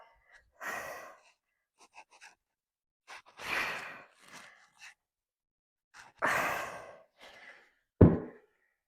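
Three long, forceful exhales from a person doing weighted squats, each a broad breathy rush, with softer breaths between and a sharp knock near the end; close and fairly loud, with no talking.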